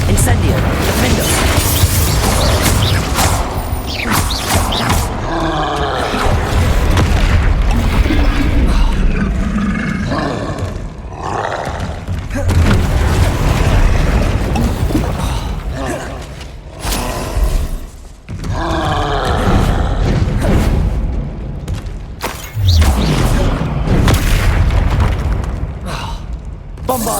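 Spell blasts burst one after another in the video game Hogwarts Legacy during combat, loud booming explosions and roaring impacts in quick succession, with a voice speaking over them.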